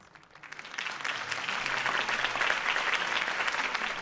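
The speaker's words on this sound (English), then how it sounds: "could have heard that applause" Applause from a crowd follows a campaign speech, swelling quickly from a few claps into sustained, dense clapping that holds steady and fairly loud.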